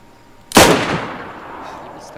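A single loud grenade blast in DayZ bursts out suddenly, then its rumble fades away over a couple of seconds.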